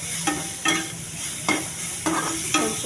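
Green chillies, onions, curry leaves and coriander fry in a pan for egg brown rice, a steady close sizzle broken by about five sharp scraping stirs.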